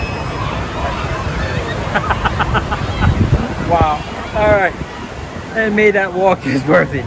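At a water park wave pool, the wave machine that makes a 6-foot wave gives a broad whoosh and surging water, with crowd murmur and people's voices over the rush.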